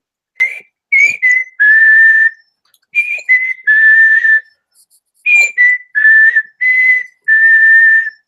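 A person whistles a tune from Ocarina of Time, a clear, loud melody played three times over, each phrase of short rising notes ending in a long held tone.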